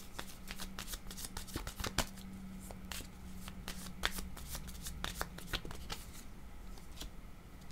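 A deck of cards is shuffled close up, giving a quick run of crisp riffling flutters and snapping card slaps that repeat steadily for several seconds.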